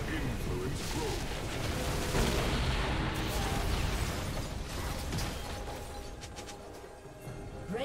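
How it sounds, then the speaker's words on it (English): A turret is destroyed in the game League of Legends, heard as a dense, continuous rumble of crumbling and bursting impacts mixed with game effects, loud and sustained throughout. "Red team's turret has been destroyed."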